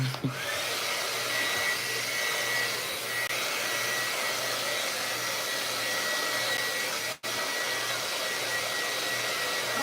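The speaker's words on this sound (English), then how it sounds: "I'll go back to my hair drying now." A hair dryer blows steadily and close by for the whole stretch, a continuous loud whoosh with a low motor hum underneath and one brief cut-out near the end, used to dry paint in a painting studio.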